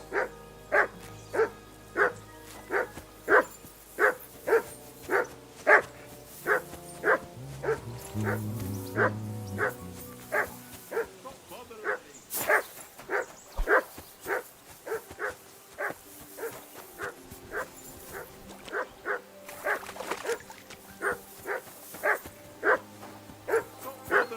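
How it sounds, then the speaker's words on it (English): A dog barks over and over in Kingdom Come: Deliverance II, loud and close. The barks come in a steady, rapid rhythm that runs almost the whole time, with a brief looser stretch in the middle. "Call that dog to heel!"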